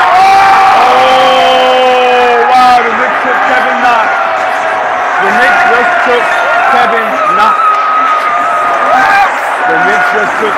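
A loud arena crowd at the NBA draft reacts to the Knicks picking Kevin Knox, a dense wall of shouting, whoops and jeering voices sustained throughout with overlapping chants.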